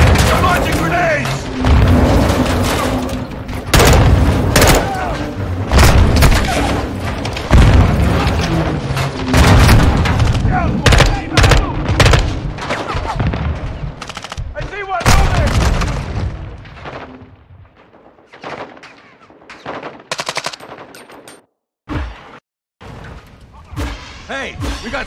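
A Call of Duty Modern Warfare 2 campaign battle gives repeated heavy booms of grenade explosions and bursts of gunfire, loud and dense, under shouting voices, before thinning out to scattered blasts.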